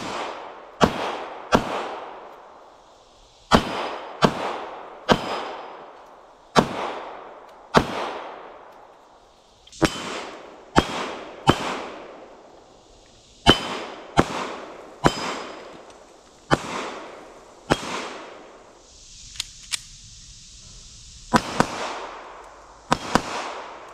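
Gunshots from target shooting outdoors, about twenty sharp loud cracks fired singly and in quick pairs at irregular intervals, each trailing off in a short echo, with no talk.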